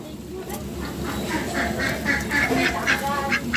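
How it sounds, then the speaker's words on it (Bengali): A flock of ducks being herded along, repeated quacks in a steady busy chorus close by over a constant background murmur, with voices calling them in between. "দেখো এই যে হাঁসগুলোকে নিয়ে আসছে এদিকে, সব কটা হাঁসগুলোকে নিয়ে আসছে"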